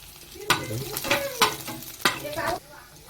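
Onion, capsicum and garlic frying in a pan for prawn chilli, with four sharp stirring scrapes over a steady close sizzle that cuts off near the end.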